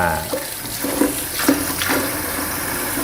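Tap water runs steadily into a sink as Angel cold-press juicer parts are rinsed after cleaning, a close, continuous splashing flow with a few small gurgles and no speech.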